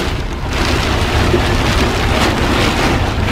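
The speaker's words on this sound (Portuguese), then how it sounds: "É cada rajada de chuva." Heavy rain driven by wind gusts during a roadside storm, a loud continuous close roar of rain pelting surfaces with low rumbling throughout, no talking.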